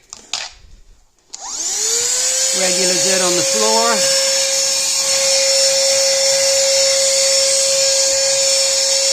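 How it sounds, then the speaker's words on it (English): A GOGOING cordless handheld vacuum starts up and runs with a steady, high-pitched motor whine close by, cleaning around radiators, while a person talks briefly over it. "it works just like any other portable vacuum cleaner"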